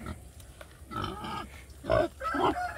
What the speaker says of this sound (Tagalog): Bagong update ko ito ating baboy na.